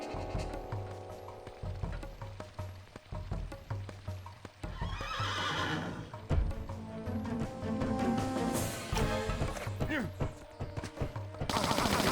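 Horses neigh and whinny amid galloping hooves, with bursts of gunfire and clattering game action mixed in, in Tomb Raider: The Last Revelation.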